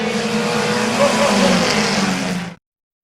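Race cars roar wheel to wheel toward the checkered flag at Midvale Speedway, a loud sustained engine drone for over two seconds that cuts off abruptly.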